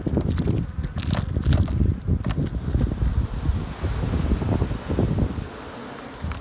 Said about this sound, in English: a good number of bees in there